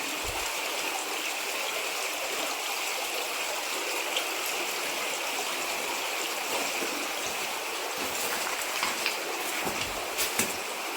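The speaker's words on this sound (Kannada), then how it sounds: "ಇಲ್ಲಿ ನೀರು ಹರಿತಾ ಇದೆ. ಇದ್ರದ್ದೇ ಸೌಂಡ್ ಬರ್ತಾ ಇದೆ ಅಲ್ಲಿ." A stream flows near a waterfall with a continuous, even rush of water that stays close and steady throughout, with only a few faint splashes and no clear talk.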